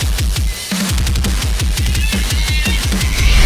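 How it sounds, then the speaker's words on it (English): Metal drums from a Kontakt sampler, mixed together on one MIDI track without routing, hammer out fast, dense kick hits with snare and cymbals. The part is loud and relentless throughout. "Not route the drums at all, but mix it all in one MIDI track and it sounds like this?"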